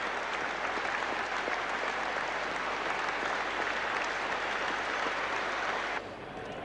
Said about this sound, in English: let's let the applause speak for itself